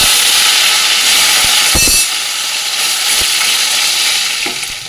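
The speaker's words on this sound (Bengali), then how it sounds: "কড়াইয়ের মধ্যে কিন্তু সর্ষের তেল দিয়ে নেবো গরম হয়ে গেছে রুই মাছগুলো ভেজে নেব" Rohu fish frying in hot mustard oil in a wok, a loud, dense, continuous sizzle close up, with a brief clatter of a utensil midway and the hiss easing slightly toward the end.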